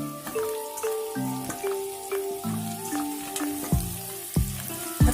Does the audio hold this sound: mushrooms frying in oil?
yes